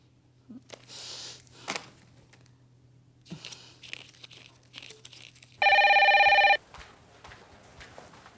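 A telephone rings in one loud, steady electronic burst lasting about a second, standing out sharply after quieter rustling and crunching sounds nearby.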